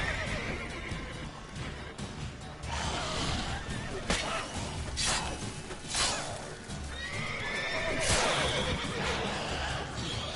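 A horse in The Witcher 3 video game whinnies and snorts several times over steady clip-clopping hooves, loud and close, with faint ambient game noise beneath.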